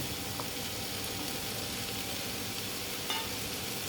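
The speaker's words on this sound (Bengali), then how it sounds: "এবার দিয়ে দিচ্ছি পনিরগুলো" Paneer sizzles in a hot pan of cooked-down masala for matar paneer, a steady close frying hiss with faint stirring clicks throughout.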